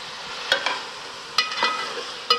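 Palak kofte frying in a yogurt masala, a low sizzle punctuated by three distinct clinks and scrapes of a spoon against the pan, close and without talk.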